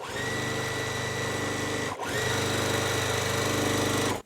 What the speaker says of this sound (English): we're going to sew this together, and then we're gonna sew this on top of it